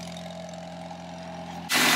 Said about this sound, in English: So now we have a full aftermarket exhaust, from headers, downpipe, test pipe, mid pipe, all the way to the exhaust.